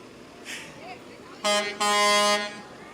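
Tow truck air horns blast twice in a town fall fair parade, a short blare followed by a longer sustained honk, loud and close, with faint crowd murmur before them.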